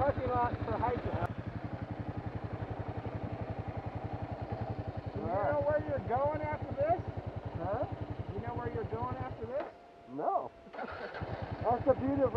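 Motorcycle engine running steadily while riding along a hilly back road, a close, pulsing low rumble throughout, with people talking over it and a brief dip near the end.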